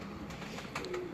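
Pigeons cooing at a pigeon breeder's loft, soft low coos close by over a steady background hum, briefly louder toward the end.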